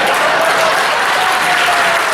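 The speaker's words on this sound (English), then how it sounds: "Thank you for the clap, man." Audience applause at a comedy and magic show during a fundraiser, a steady, dense wash of clapping that fills the whole stretch at full loudness.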